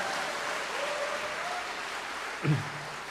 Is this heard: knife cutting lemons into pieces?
no